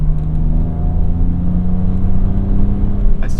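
1990s BMW M Coupe with the S52 straight-six engine, a loud, steady engine drone and rumble heard from inside the car while driving.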